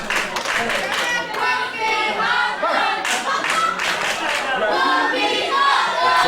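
Wrestling crowd at an indoor show claps and chants together in a steady rhythmic pattern of massed voices and hand claps, loud and close throughout.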